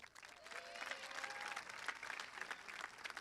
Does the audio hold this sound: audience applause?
yes